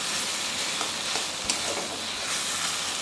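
Taro leaves cook in a pan over a hot wood fire, a dense continuous sizzle and frying hiss close by, with light stirring scrapes and one brief knock.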